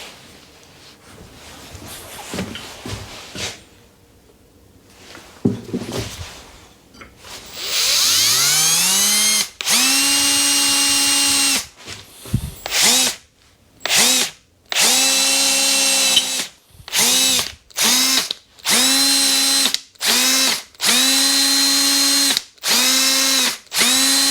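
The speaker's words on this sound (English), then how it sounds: "you can have it in a drill, torque setting right down, and just take your time" A cordless drill at a low torque setting drives into metal while fitting LED lighting to a trailer. It whirs loudly in repeated bursts of a few seconds each, with stops and restarts between them and a rising pitch as it spins up.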